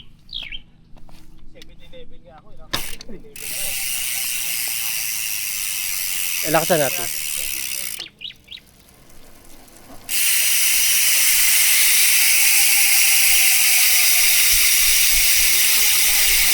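A Maxon Stroke 4.0 mountain bike rear hub freewheeling gives a continuous, fast ratcheting buzz that starts and stops, with a brief spoken phrase and some handling noise.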